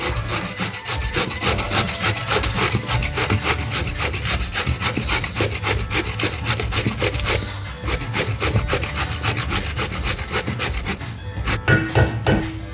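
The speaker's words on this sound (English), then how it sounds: "we're just going to grate them straight into our bowl." Two washed zucchinis rubbed against a grater straight into a bowl, a steady rasping scrape repeating in quick strokes, close and loud with a short pause midway and a few sharper strokes at the end.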